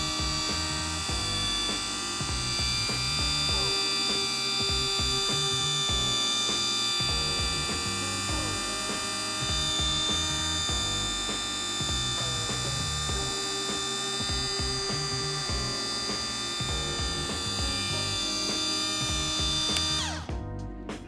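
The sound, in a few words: Maxshine mini polisher running on a car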